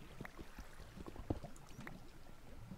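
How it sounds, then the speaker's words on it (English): Lava bubbling away in Minecraft with the Voltz modpack: soft, irregular gurgling pops over a steady low liquid wash, with one slightly sharper bubble burst partway through. "Can hear the lava bubbling away."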